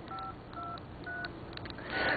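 A Palm Centro phone's keypad gives off a quick series of short dialing tones, about seven beeps in steady rhythm, faint and close up, with no talking.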